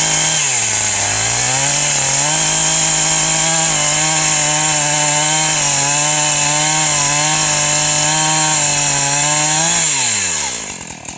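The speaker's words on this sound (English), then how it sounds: "Just set the chainsaw on it and go." A chainsaw cuts through wood, its engine holding a loud, steady high whine with a couple of brief pitch dips, then revving down and cutting off at the end.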